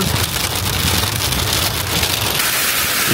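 Heavy snow mixed with sleet falls in front of the Giant Buddha statue in Tawang, a dense, steady hiss of pattering drops that stays loud and unbroken throughout.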